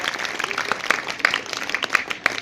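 A school audience at a June 21 International Yoga Day event applauds to welcome a new head, producing a brief, fairly close burst of scattered hand claps.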